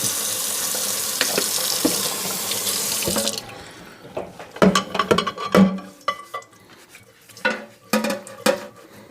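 Hot water runs from a tap into a kitchen sink for about three seconds and then shuts off, followed by sharp clinks and scrubbing knocks as microwave parts are washed with a scrub pad and dish soap.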